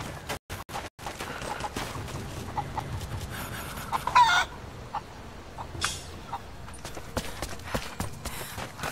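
Chickens in the Rise of the Tomb Raider video game, with game clucks and a crow standing out over steady ambient game noise, plus a few sharp knocks and clip-clop-like steps through the scene.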